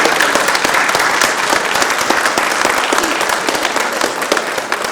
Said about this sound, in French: je demanderai aux Rochois d'applaudir les Rénanais